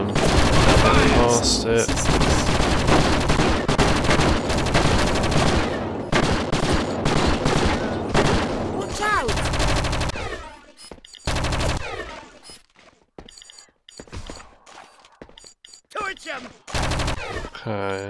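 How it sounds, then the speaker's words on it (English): Automatic sentry gun fire in the shooter game Project Eden, set in a shopping mall, rattling in long dense bursts before breaking into shorter volleys, with a player speaking briefly over the gunfire. "sentry gun"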